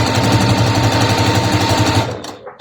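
A sewing machine stitching a long quilting seam through woven fabric, a loud rapid mechanical chatter running steadily before stopping abruptly near the end.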